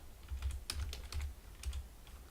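Typing on a computer keyboard, a brisk run of close key clicks in small irregular bursts.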